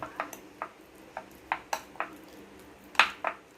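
Roasted garlic cloves crushed in a kitchen, sounding as a series of sharp, separate taps and clinks of utensil on a dish, each brief and fairly close, spaced irregularly and heard alone with no talk.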